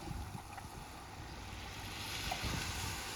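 Ocean waves wash in at the Port Aransas south jetty, a steady, fairly faint surf rush that swells slightly louder toward the end, with no voices.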